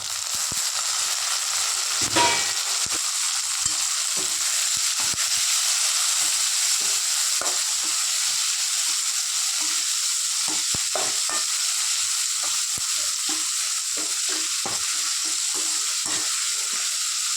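Tomatoes hit a hot frying pan and are stirred, giving a steady close sizzle broken by repeated scraping and clicking strokes of the spoon, with no one talking.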